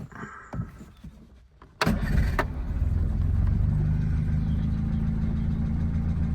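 A 1939 Citroën Traction Avant Light 12 engine cranks via starter button and catches after some quiet clicks, then settles into a steady, loud rumbling idle.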